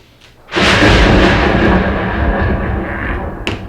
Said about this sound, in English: if my calculations are correct, we should have a lightning storm right